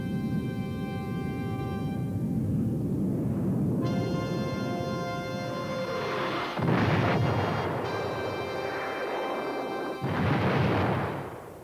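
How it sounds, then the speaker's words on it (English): Infrared-guided missile launch: a cockpit tone hums steadily, then a loud whooshing roar bursts out, followed by another roaring surge near the end. "The operator then slews the missile onto the target and launches it."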